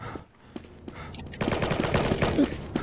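Video game gunfire erupts in rapid automatic bursts after a quieter opening with a few isolated shots, loud and sustained to the end.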